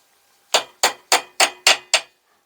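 Six sharp hammer blows from an old 6-ounce hammer striking metal in a workshop during a 7.25 inch gauge locomotive build, evenly spaced with bright ringing attacks and quick decays, loud and close with no talk.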